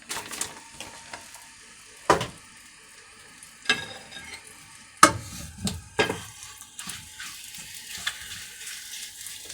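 Ground beef sizzles steadily in a frying pan at close range, broken by sharp scraping and stirring clatters at irregular intervals, with no talking.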